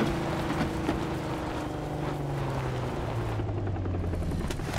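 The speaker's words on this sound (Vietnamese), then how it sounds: "À không, máy bay nhảy dù." Propeller transport plane flying overhead in PUBG, a steady low droning engine hum with a slowly shifting pitch, continuous and fairly loud over the full stretch, no talk.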